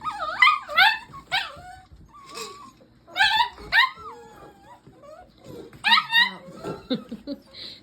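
A litter of puppies in their big pen whimper, yip and yelp in bursts of high, wavering cries, close by, with someone talking quietly between them.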